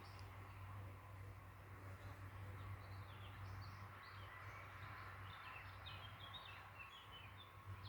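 Faint, scattered bird chirps sound in the distance over a low, steady hum and quiet outdoor background noise.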